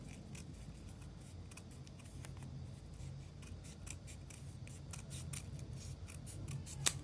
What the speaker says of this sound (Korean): 너무 두꺼우면 다시 겹친 상태에서 잘라주세요. 더 잘라주세요.